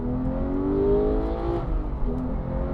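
Porsche 992 GT3 flat-six in sport mode heard from inside the car, its engine note climbing steadily under acceleration, then dipping and building again with a brief shift break.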